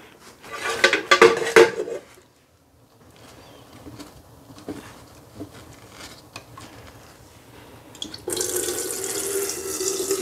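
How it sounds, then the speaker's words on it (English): Melted candle wax pours steadily into a container with clinks and splashy bursts, then a quieter stretch of faint handling noise before a louder, continuous pouring hiss resumes. "we're going to go ahead and pour some wax."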